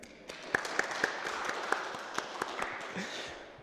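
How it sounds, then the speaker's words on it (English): An audience claps for Wikipedia's 15th birthday, a light, scattered patter of hands with a few sharper individual claps standing out, fairly quiet and steady over almost four seconds. "So let's clap our hands because Wikipedia is 15."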